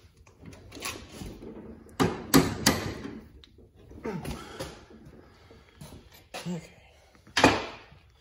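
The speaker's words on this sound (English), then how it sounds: "get your socket and ratchet, and these are crazy tight" Socket and ratchet working on very tight cups on a 6.0 Powerstroke oil rail, with irregular metallic clicks, clanks and knocks, near and moderately loud.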